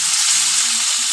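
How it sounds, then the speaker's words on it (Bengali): Green tomatoes fry in hot oil with turmeric, giving a loud, close, continuous sizzling hiss that stays steady throughout. "কাঁচা টমেটোগুলো দিয়ে দেবো"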